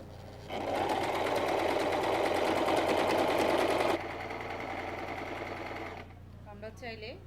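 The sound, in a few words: sewing machine stitching a salwar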